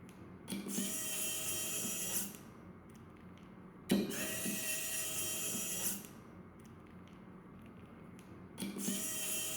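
Small M3 countersunk screws are tightened to fix a QHYCCD camera onto a Wanderer FilterCube filter wheel, heard as three or four close, whining motorised bursts of about two seconds each, separated by short quiet gaps.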